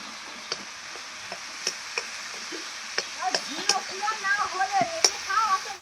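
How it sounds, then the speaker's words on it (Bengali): Spices are sautéed with mango in a pan at a village home, with scattered clicks and taps of a stirring utensil against the pan. These grow busier toward the end over a faint sizzle. "দিয়ে আমের সঙ্গে সমস্ত মশলাগুলো খুব ভালোভাবে কষিয়ে"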